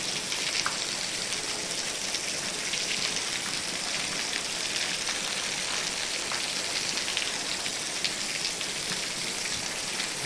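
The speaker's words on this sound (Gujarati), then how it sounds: "ના બંધ થવાનું નામ ન લેતો વરસાદ." Dense, steady unseasonal heavy rain pouring down on farmland, a constant hiss of drops hitting surfaces with no pauses and no voices.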